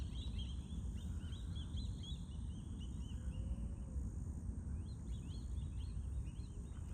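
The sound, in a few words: birds calling near a pasture on a morning hike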